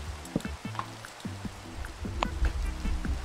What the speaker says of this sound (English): Yeah, and it's raining.